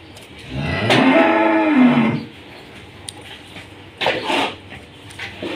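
A cow in heat gives one loud, close, drawn-out bellow lasting about a second at a cattle farm, followed by quieter shuffling and brief background noises.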